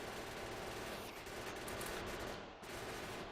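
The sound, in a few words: gun turrets firing at biters in the video game Factorio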